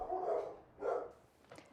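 Dog barking in two or three short, loud bursts, followed by a quieter yip at the end, with no voices.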